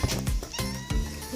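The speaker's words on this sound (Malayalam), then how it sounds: "പൂച്ച കരയുന്നുണ്ട്" A cat meows loudly and insistently, three or four drawn-out cries in quick succession, close by with no other sounds.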